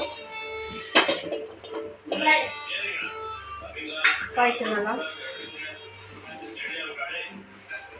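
A cooking pot set on a gas stove, with metallic clanks and knocks of pans and utensils under a woman's ongoing speech, close by in a home kitchen.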